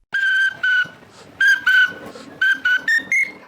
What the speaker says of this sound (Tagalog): Pero knows mo ba na ang pito ay magagamit din bilang instrumento?